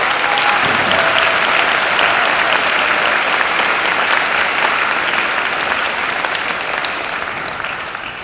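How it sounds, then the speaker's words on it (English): Steady applause from a high school assembly audience honors a wind symphony and chamber orchestra at a Veterans Day event, dense and sustained for the whole stretch, tapering slightly near the end. "let's give them one more round of applause"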